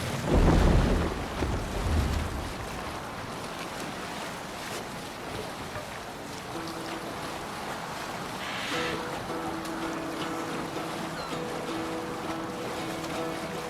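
A Viking longship sailing on open water in the video game Assassin's Creed Valhalla, with a steady wash of waves and wind rushing against the hull, a louder surge at the start, then an even, continuous surf.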